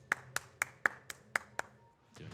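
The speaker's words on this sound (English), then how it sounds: "Gotta give that a clap." Seven sharp hand claps land in an even, unhurried rhythm, fairly quiet, followed by a short faint rustle.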